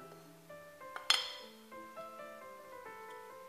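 Spoon clinking against a dish while olive oil and turmeric are mixed for stuffed vegetables with beef, a few light taps and one sharper clink, faint and close, otherwise quiet.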